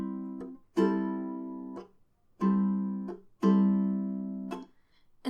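Ukulele fingerpicked on open strings, a few plucked chord groups ringing out and decaying, with short gaps in between, close and clear.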